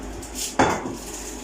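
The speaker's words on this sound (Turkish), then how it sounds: "Şu tencereyi şuradan bir alayım ben." A cooking pot is lifted in a home kitchen, giving one soft metallic knock and scrape at a single moment against a quiet room.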